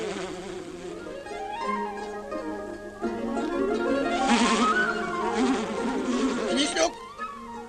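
Cartoon bees buzz in a fluctuating, whining drone that rises and falls in pitch over background music, with a moderately loud swarm sound throughout.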